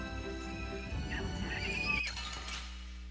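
A horse-like monster called Rhybgaro in the video game Tales of Vesperia lets out a loud whinnying neigh with faint clip-clop hoofbeats, game effects alone without talk.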